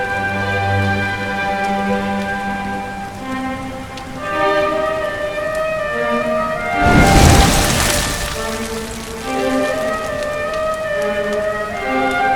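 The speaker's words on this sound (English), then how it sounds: "Looks like the rain's dying down." Steady rain falls in the Dragon Quest 11 S video game under a layer of sustained musical tones, with a brief louder rumbling swell partway through.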